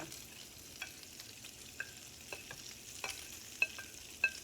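Tomatoes, onions and jalapeno peppers go into a hot pot for chili beans, giving a soft, low sizzle punctuated by scattered light clicks and scrapes of stirring, with no voices.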